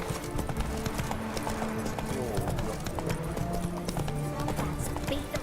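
Roach the horse galloping in The Witcher 3, rapid rhythmic hoofbeats on open ground, steady and fairly close, with game voices talking over it.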